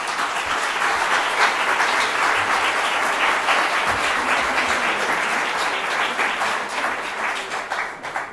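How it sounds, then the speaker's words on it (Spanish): A large audience at a social work association's welcoming ceremony for new members applauds steadily and loudly for about eight seconds, the dense clapping fading slightly near the end. "Un aplauso, por favor."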